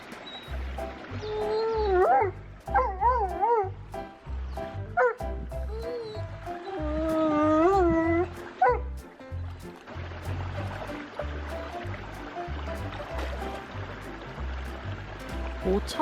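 Puppy sobbing, howling and whimpering up close in wavering, drawn-out cries, broken by short yips over a rhythmic low background thump, then easing into quieter whines.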